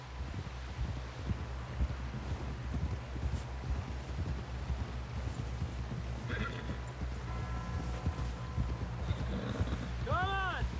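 Horse hooves clip-clop at a steady trotting rhythm in Red Dead Redemption 2, with a horse whinnying near the end, under outdoor ambience and people talking.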